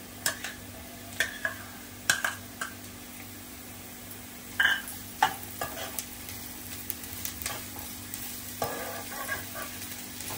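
Ginger garlic paste stirred into browned onions for prawn biryani, a steady soft sizzle in the pan with repeated sharp scrapes and clicks of a spatula, close and alone.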